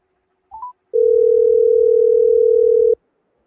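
A brief rising beep from a telephone is followed by a loud, steady dial tone that holds for about two seconds and then cuts off cleanly, heard alone in otherwise quiet surroundings.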